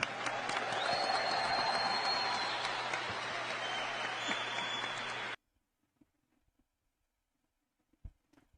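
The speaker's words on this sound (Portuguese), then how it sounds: "aplaudido por todo um auditório" An auditorium audience applauding, a dense, steady wash of clapping that cuts off abruptly, followed by near silence with a few faint clicks.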